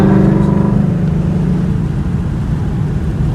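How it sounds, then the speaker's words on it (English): Supercharged 2018 Ford Mustang S550 with a Coyote V8, VMP Odin blower, X-pipe, long-tube headers and active exhaust, a loud close rev that peaks at the start and settles into a deep, throaty burble, with no voices. "That's what the active exhaust gives."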